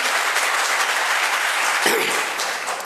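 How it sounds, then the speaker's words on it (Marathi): An audience at a motivational talk applauding, dense continuous clapping from many hands that holds steady and fades slightly near the end. "तुम्ही जेवढ्या जोरात टाळ्या माझ्यासाठी वाजवल्यात तेवढ्या शुभमसाठी सुद्धा व्हायला हव्यात"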